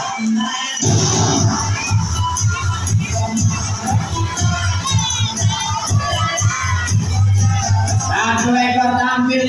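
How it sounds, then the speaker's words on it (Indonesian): An audience at a sea lion show cheers and claps in a loud, sustained crowd roar that holds steady for several seconds, mixed with shouts. "mengajak semua yang dari sini tepuk tangan sekali lagi buat singa lautnya."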